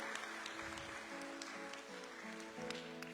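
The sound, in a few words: church congregation applauding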